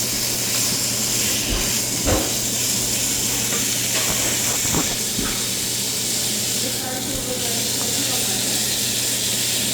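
Beef and broccoli stir-frying in a hot pan give off a steady, loud sizzle and hiss throughout, with occasional scrapes and stirring clicks over a constant low hum.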